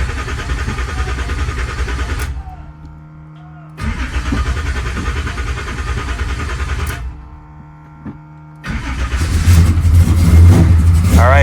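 A 600HP Cadillac drag car engine runs loud and near in rough bursts that cut out twice, then roars back and revs harder toward the end.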